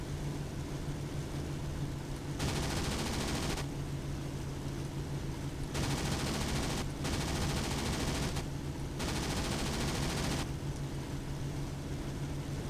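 Ki-100 20mm cannons firing in the IL-2 1946 flight game, with four long, loud rattling bursts over a steady engine drone and no talk.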